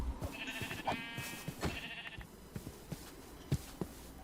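Sheep bleat several times in Minecraft, with short, nasal calls at moderate volume. Clicks and small game noises are scattered between the bleats, and no one is talking.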